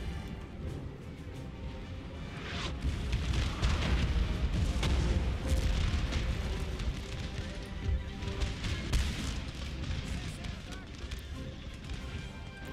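Musket volleys and artillery fire rumble through a Napoleon: Total War battle in the defence of Warsaw, a dense continuous barrage of booms and cracks with a heavier surge in the middle, while a voice talks over it.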